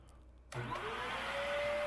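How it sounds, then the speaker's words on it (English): A vacuum cleaner switches on abruptly and draws air through a clothes dryer duct, settling into a steady, close whine with a rising tonal edge as suction builds. "So I first tried using my vacuum cleaner"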